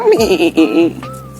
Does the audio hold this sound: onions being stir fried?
no